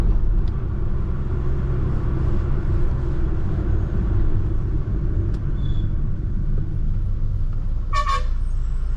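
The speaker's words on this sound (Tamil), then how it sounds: "பஸ்லாம் பார்த்திங்கன்னா ஹார்ன் அடிச்சு வழி விடுங்கன்னு சொன்னாங்க." A car or bus horn toots briefly near the end on a winding mountain road from Kothagiri down to Mettupalayam, over a steady rumbling engine and road noise.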